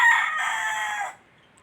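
A rooster crowing once, loud and near, a single drawn-out call that cuts off after about a second and leaves quiet behind it.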